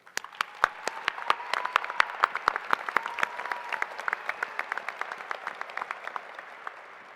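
An audience at a fall commencement ceremony breaks into applause, sharp individual claps rising into a sustained crowd patter that gradually thins toward the end, with faint voices mixed in.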